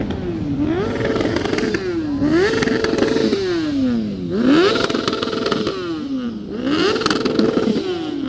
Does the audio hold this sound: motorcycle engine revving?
yes